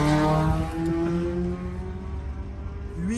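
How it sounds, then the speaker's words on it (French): A car engine pulls hard while accelerating up a hill, its steady harmonic drone rising gradually in pitch over a few seconds, loud and close with some wind noise, ending with a brief sharper climb. "On va refaire quand même une accélération en montée maintenant, mais pour justement entendre le son du moteur"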